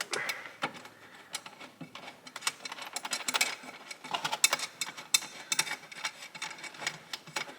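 A ratchet tool clicks rapidly in uneven bursts while a bolt is tightened on a motorbike's air box, the close metallic ratcheting rising and falling with each swing, heard alone.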